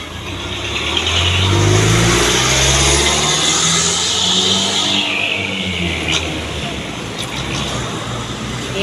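A Mega bus engine passes on a roadside in San Pablo, Laguna, in the evening, a loud, close drone that swells and slowly fades, with occasional faint voices.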